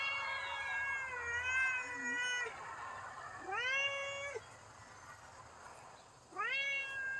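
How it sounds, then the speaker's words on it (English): A pet cat meows loudly three times, long drawn-out calls spaced a couple of seconds apart, close to the listener, with faint quiet sound in between. "he's just a loud cat."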